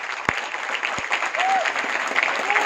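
Applause carries on from a crowd in a training hall during a leadership session, with a couple of sharp claps early and faint voices mixed into the steady clapping.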